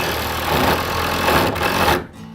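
A powered driver sinks screws into a wooden sled with a loud, continuous whirring grind close by, cutting off abruptly near the end.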